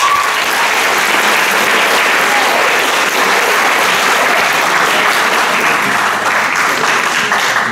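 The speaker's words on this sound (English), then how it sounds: "Let's have a round of applause for those guys." A packed school crowd at a high school holiday Hanging of the Green event claps for the student council, loud continuous applause filling the whole stretch without letup.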